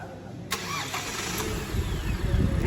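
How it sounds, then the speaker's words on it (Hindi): Hyundai Alcazar Platinum 1.5 diesel SUV started remotely by key fob: a sharp crank catch, then the engine settles into a low, steady idle that builds slightly in rumble, close by, with no talking over it. "इंजन अपने आप शुरू हो जाता है।"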